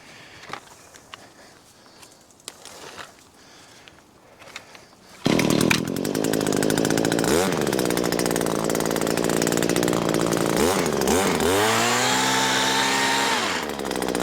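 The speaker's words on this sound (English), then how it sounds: "You want to make sure that your saw is on full RPM before you touch the wood" A few quiet clicks and rustles, then an Echo chainsaw pole saw suddenly starts loud and runs at high revs, its pitch dipping repeatedly as it bites into wood overhead.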